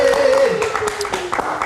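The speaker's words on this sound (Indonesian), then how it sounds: "Kita kasih tepuk tangan sekali lagi untuk Aumania." An audience claps for Aumania at a live variety show, a continuous burst of applause mixed with a steady tone and voices.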